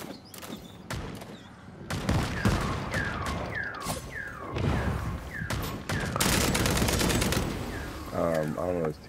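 Rapid gunfire in Vampire: The Masquerade - Bloodhunt, repeated sharp shots and short bursts with mechanical clicks and creaks, loud and close, with game effects and some voice in between.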